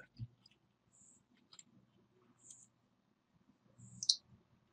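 Computer keyboard keys are pressed while setting game controls, producing a few sparse, faint clicks spread across a quiet stretch, with a slightly louder click near the end and soft low background murmurs.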